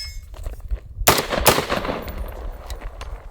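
Two quick rifle shots from a budget AR10, the second right after the first, ring out over steady outdoor background noise.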